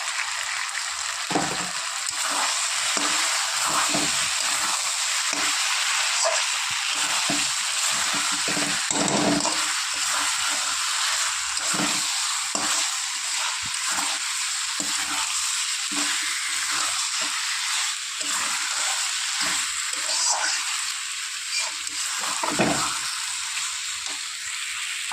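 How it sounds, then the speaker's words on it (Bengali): Spice masala for a rohu fish curry fries in a pan, a constant close hiss and sizzle broken by repeated soft scraping strokes of stirring, with no voices. "আরও 5 মিনিট মতো আমি ভালো করে মশলাটা কষিয়ে নিই"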